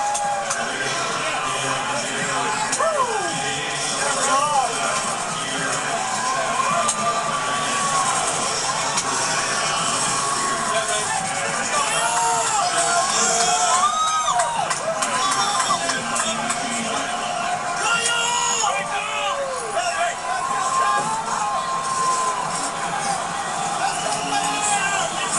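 A NASCAR race crowd at the 2019 Ford EcoBoost 400 cheers and whoops in a dense, continuous roar as a driver salutes the fans, with distant shouting and babble throughout.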